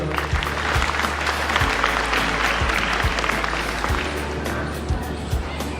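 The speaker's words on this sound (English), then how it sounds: "A huge round of applause." A crowd claps for a student collecting a certificate at a school felicitation ceremony, sustained dense applause with scattered low thuds and a faint murmur of voices beneath it.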